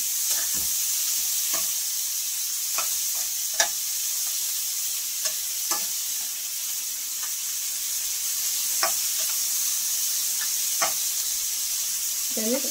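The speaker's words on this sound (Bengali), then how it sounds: "পেঁয়াজটা আমি ভালো করে ভেজে নেব।" Chopped onion from two large onions frying in a little oil, a soft constant sizzle punctuated by occasional sharp stirring clicks and scrapes.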